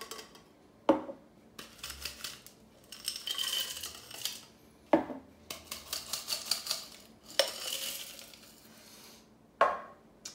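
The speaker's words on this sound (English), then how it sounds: "let's go ahead and top this with some ice" Ice cubes tumble into a stainless steel cocktail shaker in several separate bursts, each a sharp metallic clatter and rattle followed by a brief pause, heard close up with no talking.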